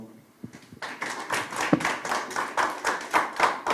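An audience at a policy debate forum claps in applause, starting with a few scattered claps and then building into steady, rhythmic group clapping close by, with no voices over it.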